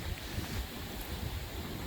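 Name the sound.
strong wind blowing snow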